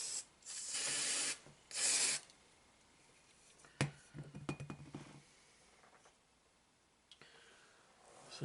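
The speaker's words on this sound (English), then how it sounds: "So I'm going to spray this while it's folding." Short bursts of aerosol spray on a small folding model locomotive part, two loud hissing blasts near the start, then quiet handling, light ticks and rubbing.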